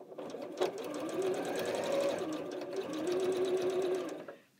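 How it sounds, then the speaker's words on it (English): A sewing machine chain pieces a small quilt block as a starter and ender, running in close, steady bursts of rapid stitching with brief pauses, then trailing off at the end. "we're just going to sew this little piece as our starter and ender"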